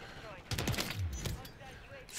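Gunfire in a shooter video game, a short burst of shots that rings out briefly, fairly quiet overall, while someone talks over it.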